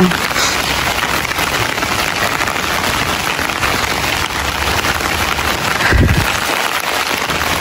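Steady rain falls in a dense, continuous hiss of drops on surfaces, close and even throughout, with faint background noise.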